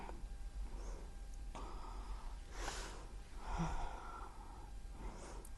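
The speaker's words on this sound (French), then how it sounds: "Allez, encore une respiration." During a gentle lower-body stretching exercise, a person draws a few soft, deep breaths, faint airy inhales and exhales close by over quiet room hum, with no talking.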